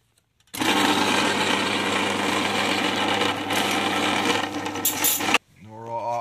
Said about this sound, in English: I'm not going to bore you to death with the K1500 just spinning round and round and round